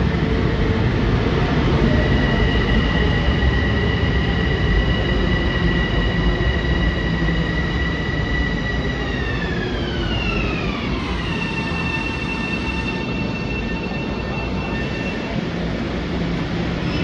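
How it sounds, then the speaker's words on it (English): A train rumbles steadily into Grand Central Madison station, wheels squealing with high sustained tones that slide downward as it slows, continuous and loud throughout. "Here comes another train."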